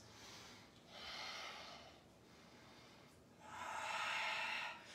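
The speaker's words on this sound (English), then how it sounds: "Take 2 more breaths." Slow, quiet breathing during a yoga lunge pose: two soft, airy breaths a few seconds apart, close to the microphone with no talking.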